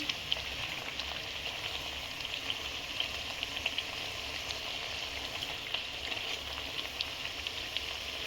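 Nippattu frying in oil over a medium flame, giving a steady, even sizzle with fine crackles and pops throughout and no talk.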